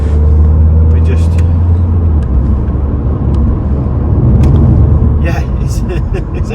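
A Volvo V40 Cross Country D3 driving at speed on a 60 mph country road through a sharp bend, heard from inside as a steady low engine and road rumble with someone talking over it.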